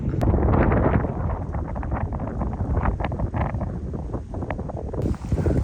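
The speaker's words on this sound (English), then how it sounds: "I could definitely go without the 30-mile-per-hour wind gusts" Strong wind gusting around 30 miles per hour buffets the microphone in a continuous low roar on a February day in Georgia, rising and falling in gusts, with rustling and flapping sounds throughout.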